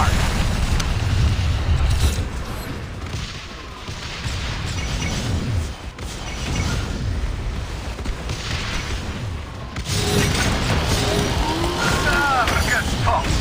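Naval gunfire and explosions from a battleship video game roll as a continuous, heavy low rumble of booms, with brief voice callouts mixed into the dense battle noise.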